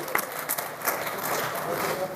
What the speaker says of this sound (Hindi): इस बात पर एक बार दोबारा तालियां बजा दीजिए